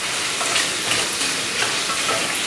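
Turmeric, mint sprigs, tamarind and garlic sizzle in hot frying oil as they are stirred for a tomato mint chutney, a steady dense hiss with soft scraping, close and continuous, with no talk.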